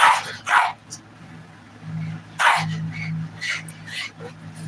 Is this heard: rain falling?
no